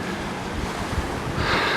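Wake waves from a speedboat on the River Thames, washing and churning steadily with wind buffeting the microphone, loud and close, with no voices.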